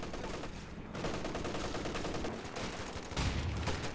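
Weapons fire during a high-level Company of Heroes match, with rocket launchers and an anti-tank gun in play: a dense, steady din of mixed shots and explosions with no gaps, swelling louder toward the end.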